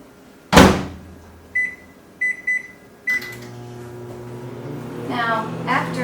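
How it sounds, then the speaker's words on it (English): A door thumps shut, a few short beeps sound as buttons are pressed, then a microwave oven hums steadily with a low drone while someone briefly speaks. "Going to microwave this for a minute."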